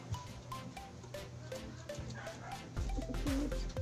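Pigeons cooing in soft, low, repeated calls over a rustling outdoor background, with the calls growing a little fuller near the end and no voices heard.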